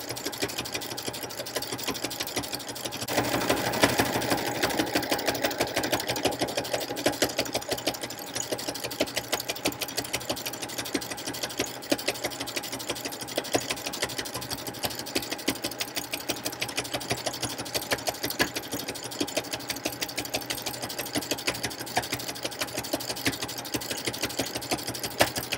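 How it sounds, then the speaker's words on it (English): A sewing machine stitches through paper tags in a fast, steady mechanical run that starts after a few quiet seconds and carries on close and continuous, with no voices. "just let the machine do what it's going to do, because this is not like regular sewing"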